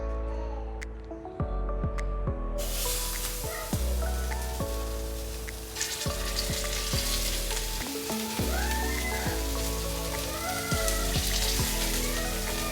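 Shami kababs fry in desi ghee, a constant bubbling sizzle underneath tonal background music, with no one speaking.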